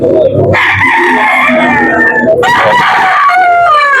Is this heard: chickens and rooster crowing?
yes